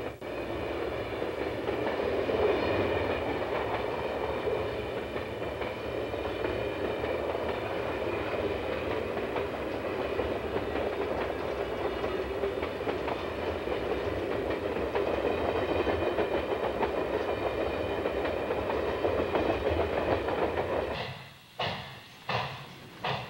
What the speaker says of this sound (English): A passenger train departs Elizabethton.